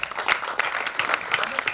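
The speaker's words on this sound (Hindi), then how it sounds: "जोरदार तालियां दोनों के लिए" A theatre audience at a drama festival gives a short burst of clapping for the play's director, a quick, fairly soft patter of many hands.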